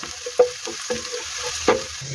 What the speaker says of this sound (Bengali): তো আমি মরিচটা আর রসুনটা তেলে ভাজা দিয়ে নেবো এখন